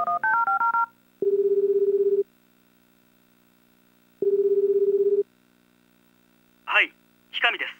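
A phone dial in the video game Tokimeki Memorial Girl's Side 2nd Kiss: a quick run of keypad tones, then two long steady ringback tones separated by silence, then short voiced bits as the call connects.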